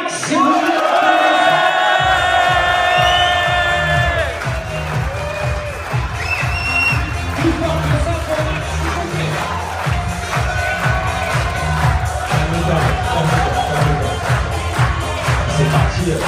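A convention crowd cheers and shouts loudly in a dense, sustained roar, with whistles and tonal sounds riding over the noise throughout.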